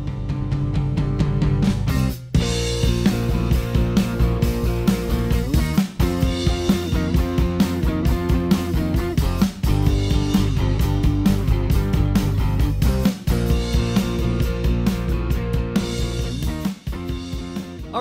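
A drum kit plays the pre-chorus groove of a song along with the full band recording, steady and loud throughout with a couple of brief breaks in the pattern.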